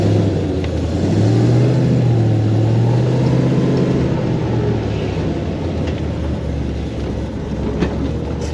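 A supercharged LSA V8 on E85 fuel roars in a drift car, holding a loud, sustained drone with gently rising and falling pitch for the whole stretch.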